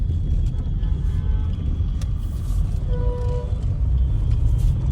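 Road traffic near Palashbari during a festival, a continuous low rumble of passing cars with brief horn toots, heard close and steady with no speech.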